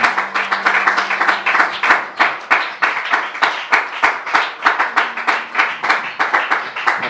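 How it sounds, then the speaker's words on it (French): Church congregation clapping for Jesus, a fast, loud, rhythmic pattern of hand claps from many people that keeps going throughout, with some cheering mixed in. "Est-ce que tu peux acclamer pour Jésus?"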